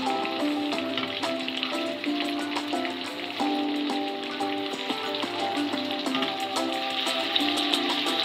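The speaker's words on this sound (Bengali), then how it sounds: "আমার ফিশগুলো অলমোস্ট ক্রিস্পি করে ভাজা হয়ে গিয়েছে" Porgy fish frying crisp in a pan of oil, a steady close sizzle with fine crackling pops throughout, with no talking.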